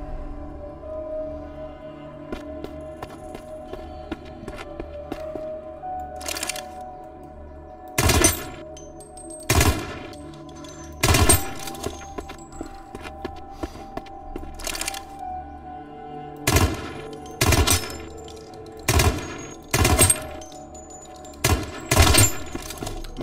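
AK rifle firing in a first-person shooter video game, with a dozen or so sharp, loud single cracks spaced irregularly over a low, steady game ambience.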